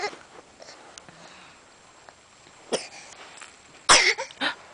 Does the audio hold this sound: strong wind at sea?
no